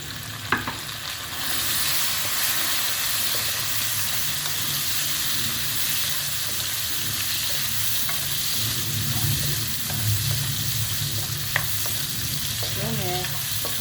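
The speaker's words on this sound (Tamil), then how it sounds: "இந்த தக்காளியும் நல்லா வதங்கிடுச்சு." Tomatoes sauté in hot oil in a pan for a fish curry, making a continuous loud sizzle and frying hiss with occasional scrapes and clinks over a long stretch, with no voices.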